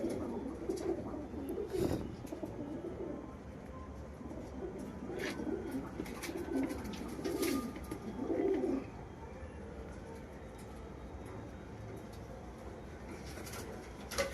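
Racing pigeons coo in soft repeated bursts, with occasional fluttery wing sounds, over a low steady background.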